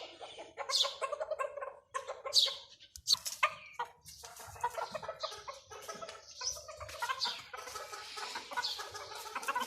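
Several roosters fighting cluck, squawk and cackle agitatedly close by, a busy, overlapping flurry of calls with sharp outbursts throughout.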